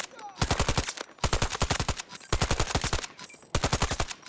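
A video game rifle fitted with a thermal 2.5X sight fires in four loud, rapid bursts of automatic fire, each lasting close to a second, with brief silent gaps between them.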